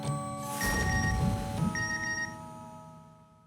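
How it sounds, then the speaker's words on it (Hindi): A telephone rings with a steady electronic tone in a domestic comedy-show scene, the ring sounding clearly for a couple of seconds and then fading, with no talk over it. "कोमल भाभी का फोन आया है"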